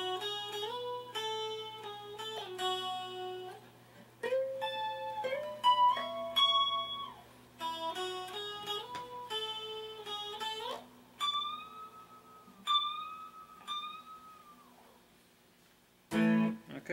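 Electric guitar plays the slide part from a song with fingers instead of a slide, clean sustained notes bending and gliding between pitches in short melodic phrases, close and alone.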